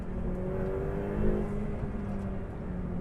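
Ferrari 488 Pista twin-turbo V8 pulling hard under acceleration, a steady loud engine drone with a slight swell midway, heard from inside the car with no talking.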